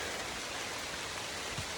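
Light rain falls on a forested stretch of the Appalachian Trail, a soft continuous hiss with no distinct drops or voices over the short stretch.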